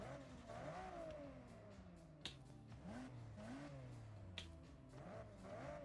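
Upgraded exhaust on a tuned car in Forza Horizon revs repeatedly, a steady game engine drone rising and falling in pitch with sharp throttle blips and pops, alone with no talk.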